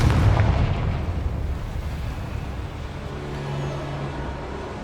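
Confringo fire spell explosion in Hogwarts Legacy: a heavy boom opens, then a rolling rumble that decays slowly into a lingering low roar with faint crackle.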